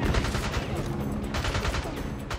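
Rapid gunfire in the James Bond: Bloodstone video game on Xbox 360, a dense, continuous burst of shots at fairly low level with no clear pauses.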